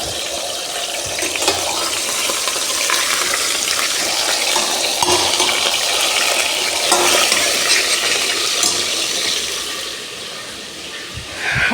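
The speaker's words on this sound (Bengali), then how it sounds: "পেঁয়াজ বেরেস্তা করাটা শেষ এখন হচ্ছে চিকেনটা দিয়ে দিলাম" Chicken added to fried onions hisses and sizzles loudly in the pan, a dense continuous frying roar with brief clatters and a dip near the end.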